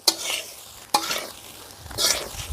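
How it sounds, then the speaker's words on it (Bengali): A spoon scrapes and tosses chicken egg fried rice in a hot pan, with a sharp clack near the start and another burst of stirring toward the end over a light sizzle. "ভালো করে এখন সমস্ত কিছু মিশিয়ে নেব"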